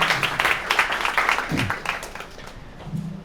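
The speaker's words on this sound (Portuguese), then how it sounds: "Aplausos, aplausos." Audience applause during a book talk at Livraria da Travessa in Rio de Janeiro: a moderate spell of scattered clapping that thins out partway through, with faint voices and murmuring underneath.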